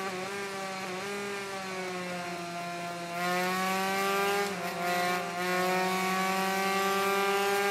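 Two-stroke 125cc motorcycle engine in the racing game Ride 3, a high, buzzy whine holding steady then climbing in pitch as it revs up through the gears, loud and close with no talking.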